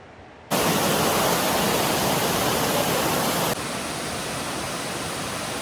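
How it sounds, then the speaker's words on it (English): A Smoky Mountains waterfall roars as a loud, steady wash of rushing water. The rush drops slightly in level partway through but continues unbroken, with no voices. "Absolutely beautiful waterfall."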